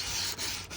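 Plumber's sanding tape rubbing back and forth along rough sheet panel edges, a steady close abrasive scrape with two brief pauses between strokes, no voices.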